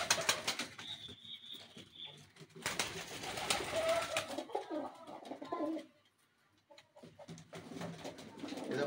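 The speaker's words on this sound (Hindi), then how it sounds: "कबूतर" Pigeons coo softly in an irregular series, with bursts of wing flapping and rustling nearby, pausing briefly before more faint calls.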